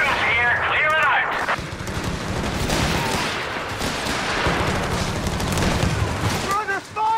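Heavy machine gun fire in Company of Heroes 3 amid a tank battle, a dense sustained rattle of bursts layered with booms and explosions, loud and continuous, with soldiers' voices calling out briefly over the din.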